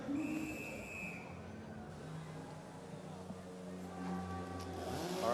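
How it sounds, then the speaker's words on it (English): Whistle blast and chainsaws starting up at the STIHL Timbersports Team World Championship 2024: a high steady whistle tone at first, then engine noise rising and revving over a busy crowd ambience, with speech in the background. "whistle blast is going, saws are being started"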